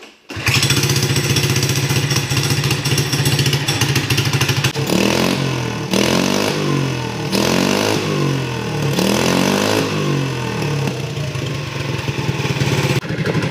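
A cheap mini bike's small engine fires up and runs loudly nearby, settling into a buzzing idle and then revving repeatedly in rising and falling surges.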